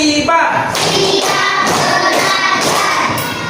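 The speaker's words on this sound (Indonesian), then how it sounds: "Tepuk 1, tepuk 2, tepuk 3, tepuk 4, tepuk 5" Children in a classroom doing a counting clap game, with rhythmic group clapping mixed under loud chanting voices throughout.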